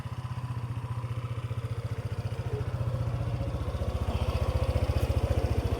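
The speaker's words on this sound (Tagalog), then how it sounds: "dala namin motor ni Loco" Idling motorcycle engine nearby, a steady low throbbing putter that grows slightly louder and more insistent about halfway through, running alone without talk.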